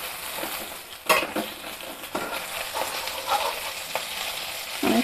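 Pieces of rahu fish fry in oil in a pan with a soft, continuous sizzle. A spatula scrapes and clinks against the pan at irregular moments, close up, with no speech.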